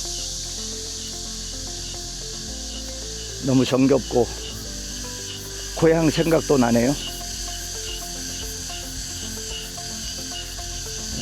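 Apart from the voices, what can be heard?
cicadas singing in summer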